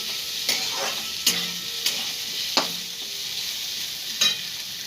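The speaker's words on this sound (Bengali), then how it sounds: "নুন দিয়ে একটুখানি ভাজলে ভালো আলুটা ভাজা হবে" Potatoes fry in an old, blackened wok with salt added, a steady close sizzle broken by five sharp scraping stirs of a spatula against the pan.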